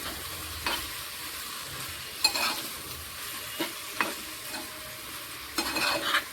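A spoon stirs salted fish curry in a pan, producing scattered scraping strokes over a soft, low sizzle, close and quiet, with no voices.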